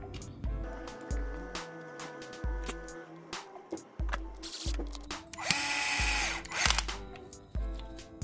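A power driver runs in many short, close whirring bursts as it sets screws into an MST RMX 2.0 RC chassis. Ratcheting clicks and small handling knocks come between bursts, with one longer run near the middle.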